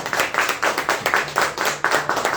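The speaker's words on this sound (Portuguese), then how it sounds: "Aplauda o Senhor." A congregation at a Brazilian church service claps in a steady rhythmic beat, loud and close, with a faint sustained tone underneath.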